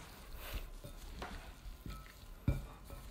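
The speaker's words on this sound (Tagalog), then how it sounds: "Pero ipiprito lang natin to ng maging light brown lang siya." Flour-coated goat meat sizzles and fries in a pan, a steady close crackle broken by a few stirring scrapes and a sharp knock of a utensil against the pan.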